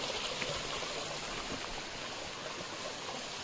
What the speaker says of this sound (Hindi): ये देखिए पानी झरना बना हुआ है।